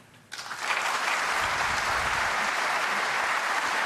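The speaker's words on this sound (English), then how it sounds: "Applause for frame ball." Snooker arena crowd bursting into applause for a frame ball, the clapping rising sharply from near silence and holding as a loud, sustained, even roar of hands.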